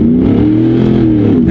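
A truck's engine revs loud and close through an open electronic exhaust cutout, giving a steady, deep, throaty roar that holds for a moment with no break.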